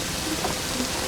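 Heavy rain pours in a dramatic cyclone disaster scene, a dense, steady hiss of falling water with no pauses, loud and enveloping over its brief span.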